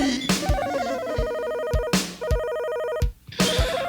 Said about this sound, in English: Pick up the phone right now